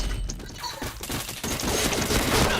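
Gunfire in the first-person shooter Point Blank, rapid overlapping shots crackling in bursts that thicken toward the end, fairly loud and continuous.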